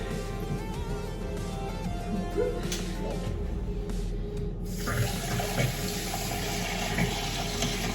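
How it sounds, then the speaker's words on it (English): Water runs steadily from a tap into a pot, a continuous rushing splash that shifts in tone partway through as the level rises. "put some water in it to sort of fill it up"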